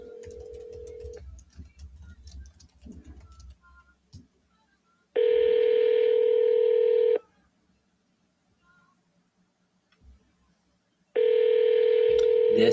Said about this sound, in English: Let's double dial it here.